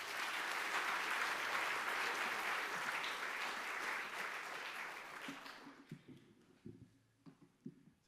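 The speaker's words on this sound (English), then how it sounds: "Please join me in a round of applause" Audience applause at an academic honors ceremony, a loud sustained burst of clapping from a large crowd that thins out after about five seconds into scattered claps and faint room noise.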